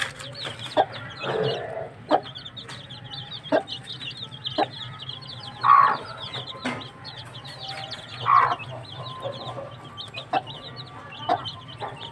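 A mother hen fussing over adopted chicks in a backyard coop clucks in short, repeated bursts, with a couple of sharper, louder calls standing out over soft background chatter of other chickens; no one speaks.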